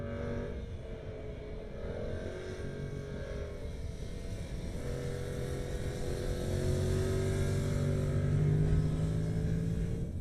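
Yamaha MT-07 motorcycle engine accelerating uphill on a track, rising tones of revving climbing in pitch, loud and close, with a brief gear change midway and the engine swelling louder toward the end.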